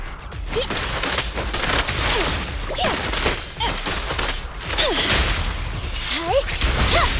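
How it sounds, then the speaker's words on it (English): Game explosions and whooshes from Zenless Zone Zero burst repeatedly in dense, loud succession, with crashes and mechanical effects filling the stretch. "Explosions."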